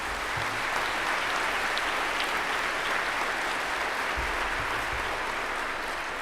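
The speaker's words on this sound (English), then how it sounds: "All right, don't clap too much." Applause from the audience at a high school graduation ceremony, a steady wash of many hands clapping, even and sustained throughout, heard at some distance in a large space.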